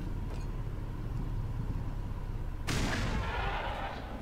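A grenade explodes in the video game Black Mesa, a sudden broad burst about two-thirds of the way through that rings out over a steady game background rumble.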